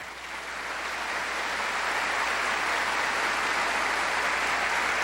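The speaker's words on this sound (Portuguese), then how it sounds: "Pode aplaudir a palavra." A church congregation breaks into applause during a Mass, the clapping building over the first second and then holding as a steady, full wash of many hands.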